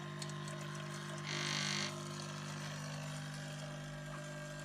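A Bosch Tassimo Style (TAS1107GB) coffee maker pumps water while brewing, giving a steady low mechanical hum with a brief louder hissing burst partway through, heard alone.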